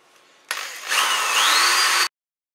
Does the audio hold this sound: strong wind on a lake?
no